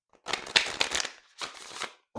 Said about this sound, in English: Let's see the shuffle on this.